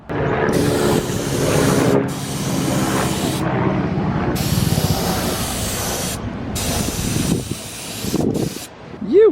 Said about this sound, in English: we're ready to spray the boot